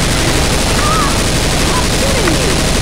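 Dense, continuous gunfire from the co-op zombie shooter Left 4 Dead 2 on the Dark Carnival campaign, with survivors firing at a Tank; loud, steady volleys with voices speaking over them.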